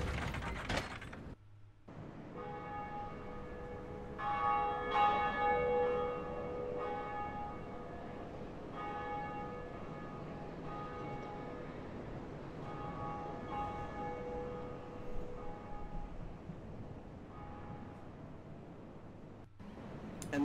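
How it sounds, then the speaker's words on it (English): A church bell being rung in the Undead Parish area of the Dark Souls video game, ratcheting mechanism sounds with sustained ringing bell tones layered over them for a long stretch, fairly faint, with no talk. "we're gonna ring the first bell"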